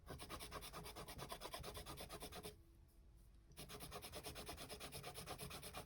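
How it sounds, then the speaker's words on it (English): An eraser rubbed back and forth over a pencil drawing, a fast rhythmic scratchy scrubbing heard up close, pausing for about a second midway and then resuming. "I'm going to do another layer of go over with the eraser"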